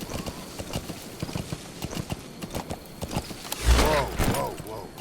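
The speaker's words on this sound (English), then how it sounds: "ride on the horse in first person" Horse hooves clip-clop at a steady walking rhythm during first-person riding in the video game Metal Gear Solid V, moderately close, with a short neigh or whinny rising near the end.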